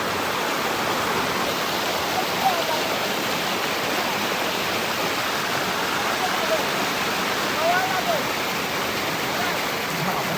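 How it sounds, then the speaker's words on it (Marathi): A flooded, rain-swollen river carrying debris rushes past at high speed, filling the scene with a steady, loud, broadband roar of churning water that never lets up. "वेग बघू शकता पाण्याचा अतिशय भयंकर वेग झालेला आहे"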